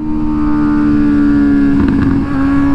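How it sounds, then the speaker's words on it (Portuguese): Suzuki GSX-S motorcycle engine droning steadily at speed, with a brief burst of crackling exhaust pops near the end against a loud continuous roar. "Ó, ó os pipocos do escape, meu."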